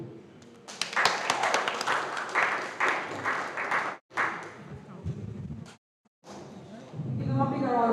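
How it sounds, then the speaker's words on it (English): Clapping from the audience at a debate competition rises for a few seconds and then breaks off abruptly. Brief gaps follow, and then a voice begins speaking. "Give them a bigger round of applause than"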